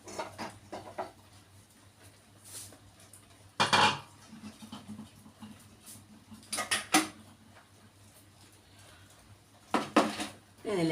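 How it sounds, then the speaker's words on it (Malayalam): A metal frying pan used for deep-frying is shifted aside on a kitchen stove, giving three separate clattering scrapes and knocks spaced several seconds apart over soft background noise. "ഇനി നമുക്ക് ഈ ചട്ടി ഒന്ന് മാറ്റി വയ്ക്കാം കേട്ടോ."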